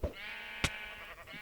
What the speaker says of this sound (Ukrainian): О, купа овець.